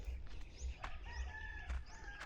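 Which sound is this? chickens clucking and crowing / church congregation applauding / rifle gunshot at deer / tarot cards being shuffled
chickens clucking and crowing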